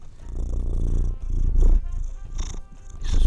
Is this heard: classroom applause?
no